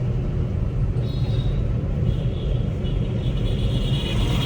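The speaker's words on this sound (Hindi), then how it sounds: "3 नंबर में चलती जा रही है गाड़ी" A car driving in third gear along a busy market road gives a steady, close engine and road rumble that holds throughout, with faint traffic noise behind it.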